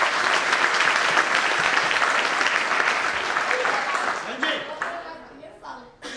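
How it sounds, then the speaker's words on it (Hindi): Loud sustained applause from a crowd, steady for several seconds before thinning out into scattered claps. "तालियां भाई जुनेद के लिए सर।"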